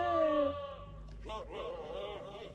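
A human voice imitates a goat's bleat with a long, wavering, nasal bleating tone, followed by more voiced sounds in a quieter, rougher vocal texture.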